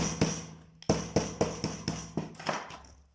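About eight sharp hammer blows land in a steady rhythm, close by, each ringing briefly before the next.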